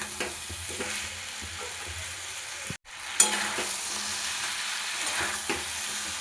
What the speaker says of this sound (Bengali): দিয়ে দেবো কয়েকটা কাঁচা লঙ্কা, দিয়ে খুব ভালো মতো করে একটু কষিয়ে নেব।